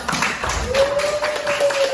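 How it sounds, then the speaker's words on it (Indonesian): A small classroom group gives brief, scattered hand claps before a group presentation, a few close claps over a faint steady tone, with a voice nearby. "Tepuk tangan untuk"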